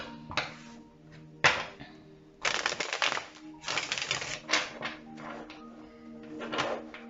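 Tarot cards are drawn and shuffled by hand in a close series of crisp riffling and flicking bursts, separated by brief pauses, with no voice over them.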